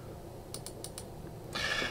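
A few quick, faint computer mouse clicks open a file, spaced a fraction of a second apart in a quiet room, followed by a soft rush of background noise.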